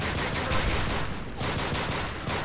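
Rapid gunfire in Call of Duty: Modern Warfare 3 rattles continuously as dense automatic bursts, loud and close, with a brief lull midway before the shooting resumes.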